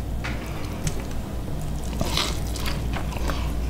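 Eating a bowl of Vietnamese chicken pho noodle soup, with soft wet slurping and chewing close to the mic, a few faint bites and squishes over a steady low background hum.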